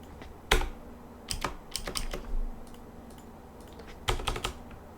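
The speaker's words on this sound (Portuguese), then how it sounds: "Meu Deus, que teclado." Clacking keystrokes on a computer keyboard come in uneven bursts, a few sharp isolated taps then quick clusters, close and fairly loud with no speech.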